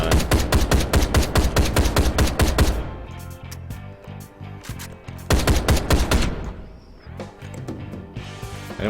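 Rapid gunfire in the video game Ride to Hell: Retribution, loud dense bursts of automatic shots in a steady stream, a short lull, then more sustained firing close up, with no voices.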